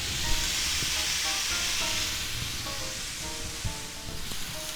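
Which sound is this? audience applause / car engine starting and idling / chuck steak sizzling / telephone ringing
chuck steak sizzling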